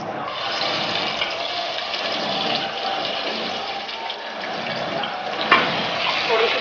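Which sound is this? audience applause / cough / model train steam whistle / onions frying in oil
onions frying in oil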